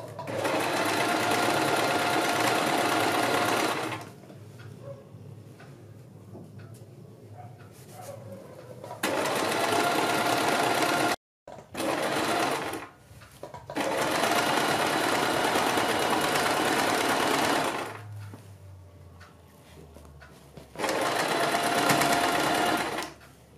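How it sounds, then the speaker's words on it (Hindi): Sewing machine stitching the slit lining of a suit, loud bursts of rapid running stitches broken by quiet pauses, with a few separate runs across the span. "एक सिलाई हम यहाँ पर लगाएंगे और इसको हम इस तरह से दूसरी साइड ले आएंगे"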